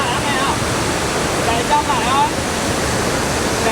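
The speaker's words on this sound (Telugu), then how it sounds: "చాలా బాగుంది నిజంగా వాటర్ ఫాల్" Dam Bri Waterfall in Bao Loc, Vietnam, pours with a steady, full-bodied roar of falling water that fills the whole scene, with faint voices briefly audible in the background.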